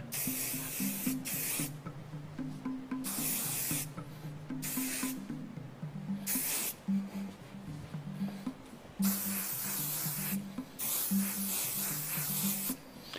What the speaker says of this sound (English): Now take your can of trusty hairspray and lightly spray all over the head.